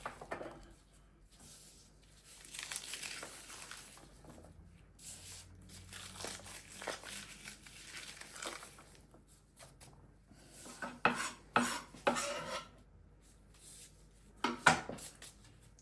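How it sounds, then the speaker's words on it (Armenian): Raw onion crumbled and squeezed apart by hand for tandoor-cooked shashlik: soft crinkling and rubbing with scattered sharper crackles and light clicks against a bowl, fairly faint and close, building to brief louder snaps. "Սոխ այս ձևի մանրացնում ենք ձեռքերով, ոնց որ ես միշտ սիրում եմ տնավարի"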